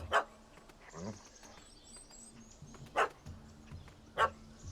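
Dog barking in The Witcher 3, several sharp barks spaced irregularly, close and clear over a quiet background with faint high twittering, no talk.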